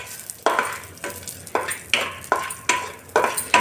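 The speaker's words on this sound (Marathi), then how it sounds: "आता थोडंसं तूप आहे कढईमध्ये, तर थोडे मनुके टाकूया." Raisins sizzle in ghee in a kadhai while being stirred, with a regular series of scraping, crackling bursts about every half second over a soft frying hiss, close and fairly loud.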